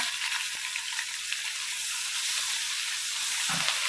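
Garlic ginger paste sizzles and fries steadily in a pan while dal makhni is prepared, a continuous close hiss with a brief low clatter near the end.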